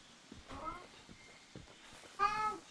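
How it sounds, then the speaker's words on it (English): Mafu, a Palico cat companion in Monster Hunter World, gives a couple of short, faint meows, the clearest near the end, over quiet game ambience with soft footsteps and a voice speaking. "Hello, Mafu the cat."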